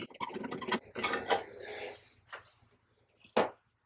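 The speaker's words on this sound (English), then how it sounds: "Take out our light bulb." A light bulb being removed from a bathroom fan light fixture, with a few close scraping, twisting and clicking sounds and a final sharp click, alone in a quiet room.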